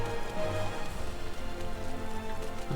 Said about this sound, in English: When did it start raining?